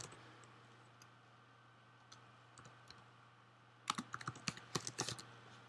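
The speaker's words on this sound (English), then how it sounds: "so now I can type in" Typing on a computer keyboard while editing in Final Cut Pro X: a few isolated faint taps, then a quick burst of close, crisp keystrokes over a low steady hum.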